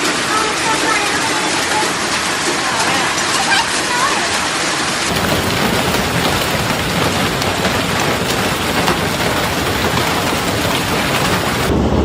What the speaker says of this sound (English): Residents described the hailstones slamming into rooftops and vehicles with a sound